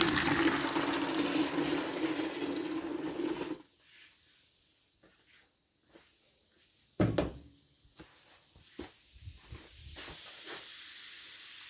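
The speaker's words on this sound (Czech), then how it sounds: "teď tam naliju vařící vodu" Boiling water is poured from a kettle into a container, a loud continuous gushing hiss for a few seconds, then it stops and is followed by scattered knocks and clatter of handling in a quiet room.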